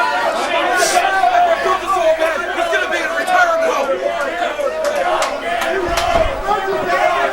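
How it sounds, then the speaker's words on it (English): Wrestling fans packed into a bar shout and chant together in a loud, roaring crowd, with rhythmic swells of voices and general chatter mixed in. "Fans chanting rock and roll."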